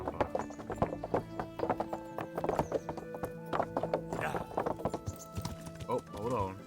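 Rhythmic clip-clop of horse hooves at a gallop in the video game Kingdom Come: Deliverance, with a horse whinnying near the end and game music and sound effects underneath.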